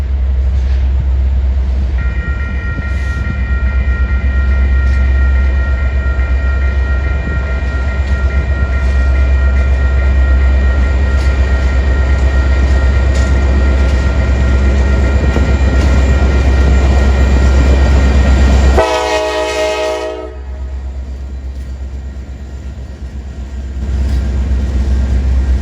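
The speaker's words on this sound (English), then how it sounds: "the first train that I captured happened to have CSX power, let alone an SD70 Mac on the point" A CSX freight train led by an SD70MAC locomotive rumbles past loud and close with a steady low roar of wheels and engine, while a long horn blast sounds for several seconds near the end.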